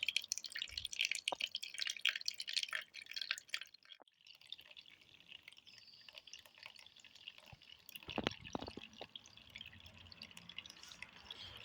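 Water drains from a radiator bleed vent into a jug, trickling and dripping close by with irregular splashes, pausing briefly before a stronger gush and then steady dribbling.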